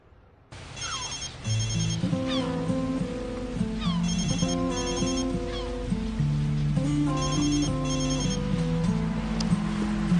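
A mobile phone ringtone plays continuously and loudly as a repeating electronic melody, with no voices over it, in a Kyrgyz-dubbed TV drama scene.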